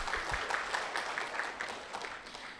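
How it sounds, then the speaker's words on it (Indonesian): A seminar audience claps together, the sound moderately soft and fairly even across a couple of seconds, with no one speaking over it. "Tepuk tangan dulu dong untuk kita semua."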